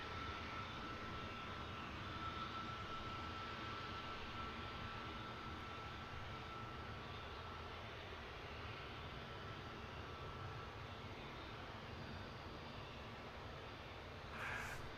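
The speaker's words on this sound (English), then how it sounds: "EasyJet 2431 heading off to Lyon, lined up, ready to go" An EasyJet airliner, flight 2431 bound for Lyon, takes off from London Luton Airport, its engines giving a steady, distant roar that holds evenly throughout.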